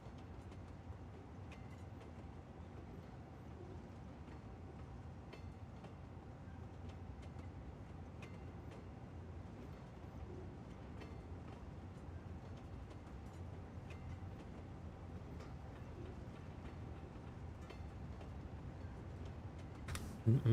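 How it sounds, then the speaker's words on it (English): In Cities Skylines 2, a long train rolls past as a low, continuous rumble with faint rhythmic ticking from the wheels. It stays fairly quiet and even, with a brief louder knock at the very end. "This is a long train POV"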